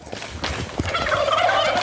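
A farm turkey gobbles loudly and close, a rapid rattling call that swells and carries on through the short stretch with no talk over it.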